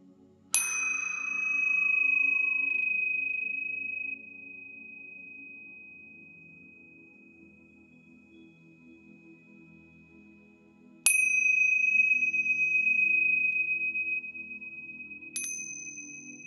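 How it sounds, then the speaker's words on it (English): Three loud, high-pitched chimes ring out one at a time during a new moon meditation session, each with a sharp strike and a long shimmering decay. The first is well separated from the last two, over a low steady drone. "You're going to hear 3 loud chimes."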